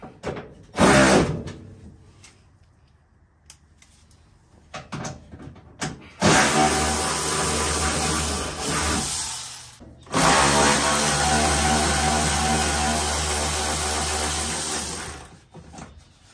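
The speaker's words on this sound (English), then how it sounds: "Let's start by unbolting this back seat." Power tool whirring in bursts while the back seat of a 1967 VW Beetle is unbolted, short whines and pauses followed by two long sustained runs with clunks between.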